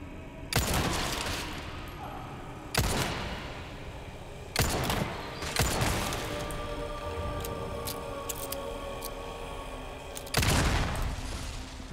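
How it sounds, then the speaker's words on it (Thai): Gunfire in Resident Evil 4 Remake: a handful of loud, sharp shots spaced several seconds apart, each ringing out over a quiet background hum. "ใครมันยิงวะ"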